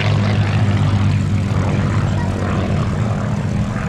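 Curtiss P-40F Warhawk propeller fighter flying at a Duxford air show, a loud continuous engine drone with strong low throbbing, close and steady throughout, no talk over it.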